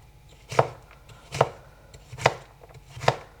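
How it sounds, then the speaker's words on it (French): A knife chops cucumber into small cubes on a board, four evenly spaced, crisp thuds about a second apart, close and clear with no talk. "je ne l'épluche pas et je le coupe en petits cubes"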